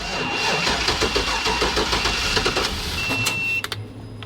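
An old 4WD Chevy van engine, running without its mass airflow sensor, cranks with a rapid, even chugging rhythm for several seconds. It then stops abruptly near the end, leaving brief clicks and a low hum.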